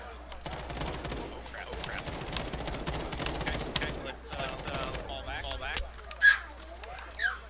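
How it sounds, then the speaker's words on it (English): Sniper rifle shots in Call of Duty Warzone, a few sharp distant cracks near the end, heard amid scattered game gunfire and people talking. "Yeah, that's a sniper."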